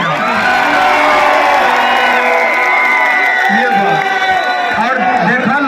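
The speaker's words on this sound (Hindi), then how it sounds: "इसके लिए एक जोरदार हल्ला करके ताली बजाओ" A crowd at a political campaign rally in Dindoshi, Mumbai cheers and shouts loudly and continuously, voices rising together into a dense, close roar with whoops breaking through.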